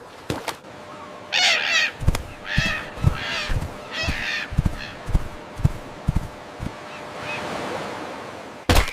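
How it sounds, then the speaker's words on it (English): Crows caw and squawk repeatedly in irregular bursts, loud and close, over a steady wash of ocean waves and wind at a marina, with no talking. "Get out of here, you pesky bird!"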